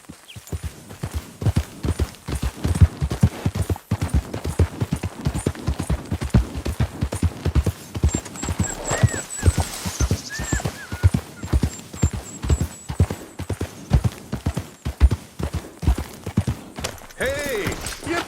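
Horse hooves clip-clopping in Red Dead Redemption 2, a steady brisk rhythm of close hoofbeats throughout, with a brief whinny and someone speaking at moments over the gait.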